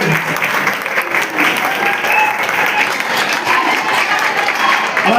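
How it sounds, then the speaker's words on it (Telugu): Children applauding together at a district formation day celebration in a college hall, a loud, dense, sustained patter of many hands filling the whole moment without a break. "పిల్లలు గట్టిగా చప్పట్లు కొట్టాలి."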